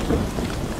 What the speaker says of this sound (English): Is that a storm coming?